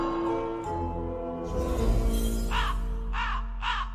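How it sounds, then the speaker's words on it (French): Three harsh crow caws, pitched three times too low so they sound unnaturally deep and slowed, repeat at steady intervals over a low droning music bed. "le bruit du corbeau qui est 3 fois trop grave"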